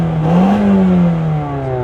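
A Honda Civic engine revs once and then winds back down, with a smooth, moderately loud tone rising briefly and sliding back toward idle, close by and without speech.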